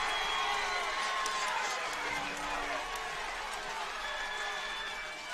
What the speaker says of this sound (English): Crowd is mad